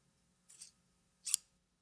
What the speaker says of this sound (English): That sounds like scissors, kind of.